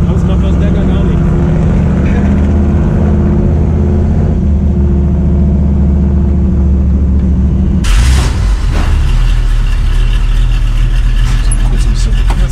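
A Chevy Nova V8 idles with a deep, loud, steady rumble while reversing, with a sharper burst of engine noise partway through and people talking over it inside the car.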